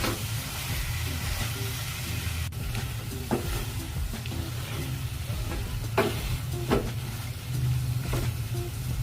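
Chicken masala being stirred in a cooking pan, with a spoon scraping and clicking against the metal at irregular moments over a steady low simmering sizzle, close up and with no voices.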